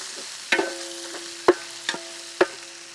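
Green chillies dropped into oil where ginger garlic paste is frying, giving a few sharp spoon scrapes and clinks over a low sizzle, close and with no talk.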